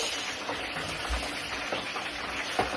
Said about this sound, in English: After frying the fish and the sausage,